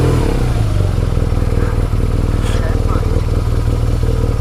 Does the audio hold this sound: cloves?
no